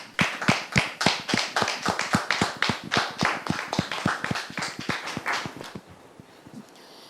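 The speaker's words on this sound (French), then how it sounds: "Merci de les recevoir avec vos applaudissements" Church audience clapping to welcome arriving guests, sharp, evenly spaced claps in a steady rhythmic beat that carry on for several seconds before stopping abruptly.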